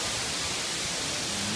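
Steady broadband rush of a waterfall near a small stream on Kaua'i, heard up close as a continuous, even roar with no breaks.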